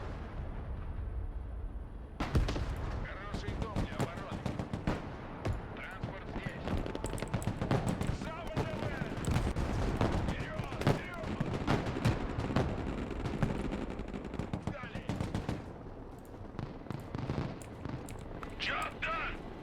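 Dense, continuous gunfire and heavy explosions from a Schmieder gun in the video game Broken Arrow, a Baltic war mission, with rapid bursts and booms overlapping throughout under intermittent voices.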